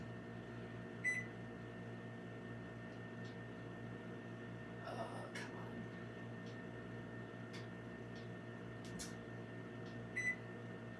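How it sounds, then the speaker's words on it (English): Kitchen oven timer being set: a few short electronic beeps spread over a low steady appliance hum, faint and close, with a brief rustle between them and no talking. "All right, let's set our timer."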